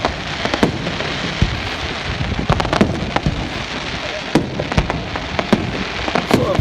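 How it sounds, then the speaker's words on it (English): Fireworks on fireworks night at Poole Quay, a string of sharp bangs and crackles going off irregularly at a moderate distance over a constant hissing background. "Fireworks night"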